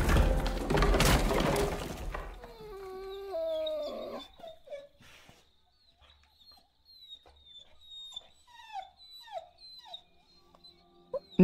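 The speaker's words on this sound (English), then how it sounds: "I know the dog was literally just trying to hunt me then" A dog in the video game Copycat whimpers and whines in a run of high, wavering cries that fade and break into faint yelps, following a brief loud crash or shattering burst at the start.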